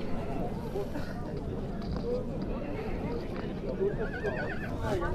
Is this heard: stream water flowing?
no